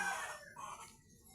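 A brief, faint chicken call, a short high-pitched vocalization from a hen somewhat distant, with quiet background.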